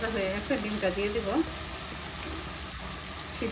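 Fish roe curry fries and is stirred in a pan with spices and a little water, making a continuous close sizzle with scraping stirs. A voice is heard over it in the first half, then the sizzle continues alone.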